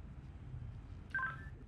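Telephone keypad dialing tones during a police patrol, a brief pair of beeps heard faintly over a low steady rumble, with no talking.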